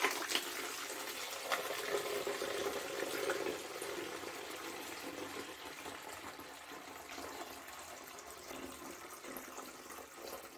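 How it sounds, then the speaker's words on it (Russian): Homemade yeast-free kvass poured from a jar into another vessel, a steady soft trickling and splashing stream lasting several seconds, fairly faint. "Сюда солью квас, чтобы дать ему остыть."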